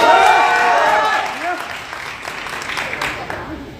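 An audience at a Bhojpuri event bursts into applause, dense clapping that starts loud alongside voices and a ringing tone, then thins and fades into scattered claps.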